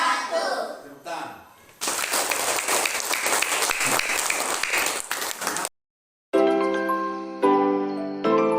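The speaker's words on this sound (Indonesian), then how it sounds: "Tepuk tangan." An audience at a school academic supervision session claps steadily for several seconds, a dense burst of applause, followed after a pause by a bright chiming jingle.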